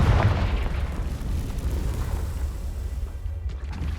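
A Confringo spell explosion in Hogwarts Legacy, a heavy booming burst at the start that rolls into a long rumbling decay and fades out over a few seconds.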